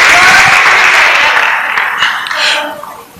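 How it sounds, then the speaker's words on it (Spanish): A church congregation at a Sunday service breaks into loud, dense applause that fades over a few seconds, with some laughter and voices mixed in near the end. "la iglesia le da un fuerte aplauso a Dios por la vida de nuestros hijos"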